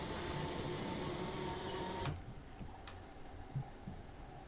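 A Class 455 electric train runs in the Train Sim Classic game on a South London route, a steady rumbling hum with faint rhythmic clunks that drops to a quieter drone partway through.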